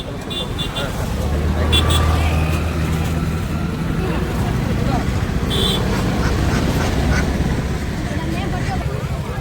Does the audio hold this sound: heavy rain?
no